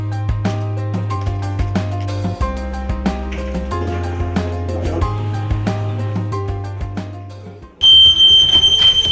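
A workplace fire alarm cuts in loud and shrill near the end as a continuous high electronic tone. Before it starts, a stretch of music plays.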